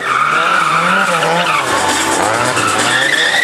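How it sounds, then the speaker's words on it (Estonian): Car doing a tire-smoking burnout at a burnout competition in Haapsalu, with loud continuous tire squeal and skidding over a revving engine, close and steady throughout. "See on burnout'i võistlus."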